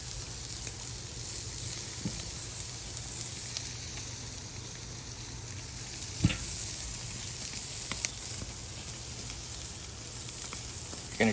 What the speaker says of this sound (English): You're gonna cook it for 4 minutes on each side till medium rare